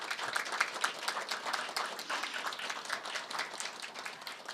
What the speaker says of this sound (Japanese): 盛大な拍手をお願いいたします